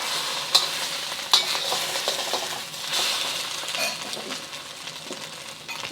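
Eggs frying in oil in a regular pan for beef fried rice, with a steady bright sizzle up close and a few sharp clicks of a utensil stirring against the metal.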